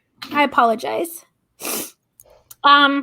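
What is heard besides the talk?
sneeze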